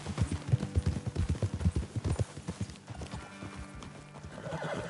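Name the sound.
horses hooves and neighing in Red Dead Redemption 2 video game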